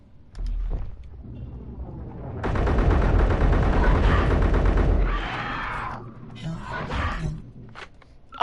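Rapid gunfire in a video game aimed at a bug creature: a few short shots, then a sustained loud burst of automatic fire lasting a couple of seconds, followed by scattered impacts and creature noises.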